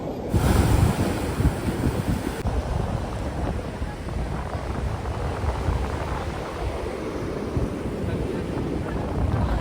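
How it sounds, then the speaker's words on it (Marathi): Sea waves surge and crash steadily along the rocky Harihareshwar coast, a loud continuous roar of surf with heavy wind buffeting the microphone throughout. "इथं लाटा येत ना खूप डेंजरस"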